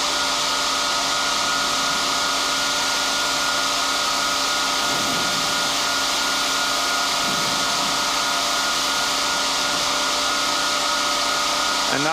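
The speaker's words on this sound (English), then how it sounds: "now we can attach the alternator to the antenna system" The Alexanderson alternator at the SAQ Grimeton radio station runs during a Christmas transmission, giving a loud, constant machine drone with steady tonal hum lines. The whirr is broad and unbroken, with a couple of faint shifting swells beneath it.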